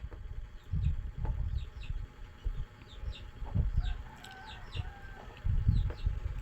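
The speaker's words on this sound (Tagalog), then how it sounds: "Sige lang nagpangayog tukuno ning mga manok" Chickens cluck in short bursts close by, with a few higher calls scattered over a low rumbling background.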